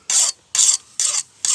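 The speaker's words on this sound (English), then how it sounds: "just casually sharpening his machete" A machete blade being sharpened outdoors during a moose hunt near Talkeetna, Alaska: four loud, near rasping strokes in a steady rhythm, each about a quarter second long with short pauses between, heard alone.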